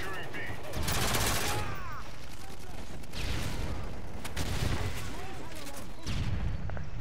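Rapid automatic gunfire from an MP7 submachine gun in the Modern Warfare 3 video game, long bursts of fast cracking shots with echoing booms, playing continuously at moderate loudness beneath faint game ambience.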